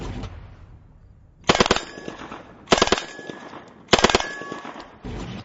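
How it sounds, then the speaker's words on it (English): An Uzi open-bolt submachine gun fires three sharp automatic bursts at steel targets 15 yards away, each rapid string loud and ringing, the last bursts followed by a shorter fourth, with quiet gaps between. "Jason and I are going to fire some bursts on fully automatic on the two pieces of steel 15 yards behind us"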